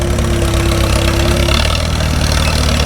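Allis-Chalmers WD tractor engine pulling trip-bottom plows through rooty soil, a steady, loud, close idle-like chug running throughout with no break.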